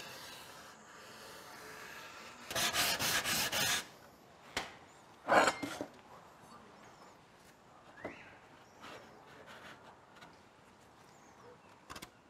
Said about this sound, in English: we'll finish it just using a sanding block